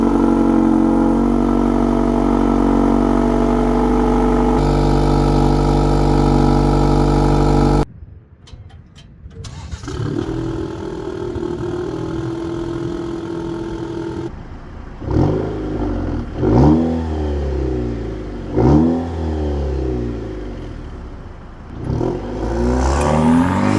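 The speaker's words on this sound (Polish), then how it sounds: "Znakiem charakterystycznym każdego Maserati zawsze był dźwięk wydechu i tak też jest w przypadku Grecale." A Maserati Grecale GT with a 2.0-litre turbocharged inline four-cylinder starts up, settles into a steady idle, then gives several sharp blips of the throttle. Each rasping exhaust rev climbs and falls back quickly.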